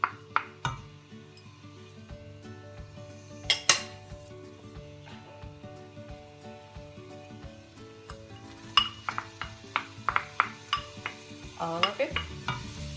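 Chopped onion is tipped into a hot frying pan for beef rendang and stirred, with clinks of utensil on metal, a light sizzle, and a quick burst of scraping near the end; a voice speaks briefly.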